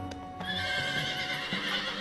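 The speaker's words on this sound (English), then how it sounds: "Teth Adams sends 100 of the finest stallions on Earth" Horses neighing loudly with hooves clip-clopping, a tribute herd of fine stallions, whinnies rising over steady close hoofbeats throughout.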